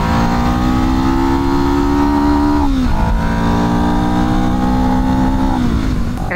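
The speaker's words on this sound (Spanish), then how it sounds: "es un motor divertido que puedes llevar muy arriba" A motorcycle engine revs hard and high, climbing in pitch, dipping briefly near the three-second mark, then rising again to a sustained high-rpm wail, loud and close throughout.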